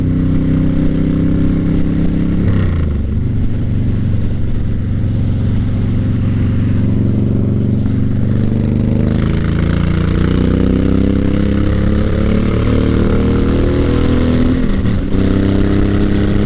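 A Suzuki C90T cruiser motorcycle roars steadily on the highway, its engine loud and close, with wind rush, rising and falling revs through shifts, and no talking.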